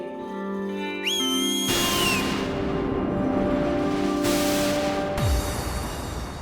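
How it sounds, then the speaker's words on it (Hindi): A whistle blown in a magical fantasy setting, a bright rising shrill tone cutting through a dense musical backdrop, loud and close before the music surges on. "माफी मांगने के लिए सीटी बजाई थी"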